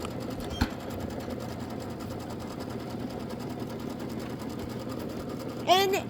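A sewing machine runs steadily, stitching the placement line on a Kimberbell Quilty Little Christmas wall hanging, with a brief click early on and a short squeak at the end.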